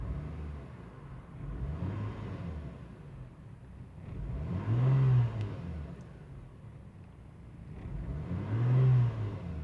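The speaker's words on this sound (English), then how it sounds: "I'm going to try to raise the RPM to see if we could make this 0 condition fluctuate" A Lexus GS300 engine being revved to raise RPM, two slow swells of rising and falling engine drone over a steady idle hum, moderately distant and fairly quiet.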